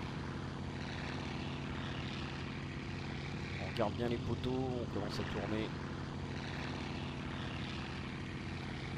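A model aircraft with an engine problem drones steadily in flight during a pylon race, its buzzing engine audible throughout at a constant moderate distance. Someone talks over the middle of it.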